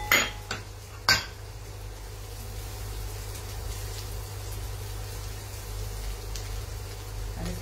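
Finely chopped green chillies cook with onions and butter in a pan: two or three sharp metallic clanks as they are stirred at the start, then a steady, soft, close sizzle throughout, with no talking.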